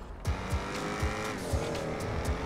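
Porsche Panamera Turbo racing at high speed in GTA 5, engine roaring steadily with a rising whine and repeated short tire squeals, loud and close throughout.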